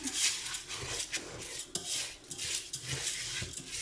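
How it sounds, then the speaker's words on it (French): A spoon scrapes and clinks around inside a pot in steady, repeated stirring strokes, close up with no talking. "Et puis je mélange. Voilà, je mélange bien."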